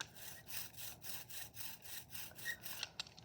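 Orange-peel printing ink worked under a rubber brayer, rolled back and forth in a steady rhythm of rasping, sticky strokes, close and fairly quiet, with no talking.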